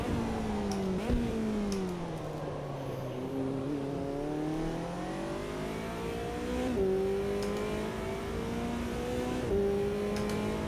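A McLaren GT4 race car at Spielberg, driven in the Automobilista 2 sim, revs hard through the gears with clear rising engine sweeps and sharp shifts, loud and continuous with no talk.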